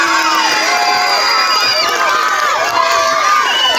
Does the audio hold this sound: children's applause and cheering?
yes